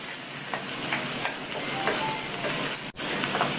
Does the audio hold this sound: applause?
no